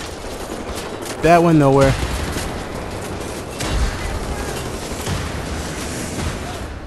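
Gunfire in the shooter Wolfenstein: The New Order: scattered shots and impacts in a busy combat mix, with a louder burst near the four-second mark, as someone speaks briefly over the action.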